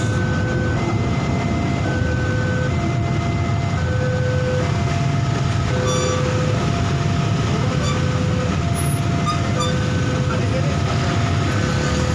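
Train at Ngunut railway station in Indonesia, a loud continuous rumble of moving rail cars with a repeating two-tone station chime over it and a crowd murmuring in the background.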